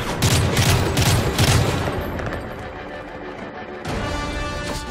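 Rapid bursts of gunfire in the Modern Warfare 3 Black Tuesday level, a loud volley of overlapping shots in the first half that thins into rumbling ambience, then a renewed burst near the end.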